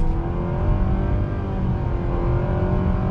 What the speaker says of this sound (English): you can hear those simulated gears going through